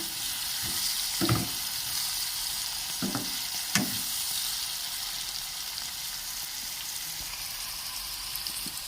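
Broad beans (chikkudukaya) fry in a pan for a masala gravy, giving a steady, close sizzle with a few brief stirring scrapes and clinks throughout.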